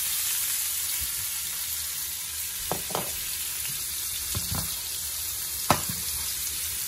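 Garlic paste and onion frying in a pan, a constant loud sizzle with a few soft knocks and scrapes of stirring scattered through.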